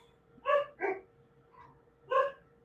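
A dog barks outside on a residential street during stormy weather, three sharp close barks in quick succession, a soft yip, then one more loud bark against a quiet background.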